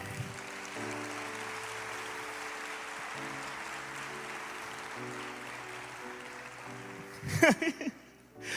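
Congregation clapping during a church sermon, a soft broadband wash of applause under steady organ-like sustained tones, ending with a brief louder burst near the close.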